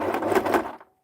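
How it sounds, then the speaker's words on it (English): A sewing machine runs a quarter-inch seam with a backstitch on upcycled fabric, a steady close whirring burst about a second long that stops abruptly. "I'm just going to stitch a 1/4 of an inch stitch"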